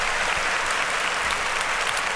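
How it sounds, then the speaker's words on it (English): Canned applause sound effect on a podcast, a dense, even burst of crowd clapping lasting about two seconds with no talk over it. "I just have to say, hey, get some applause on that."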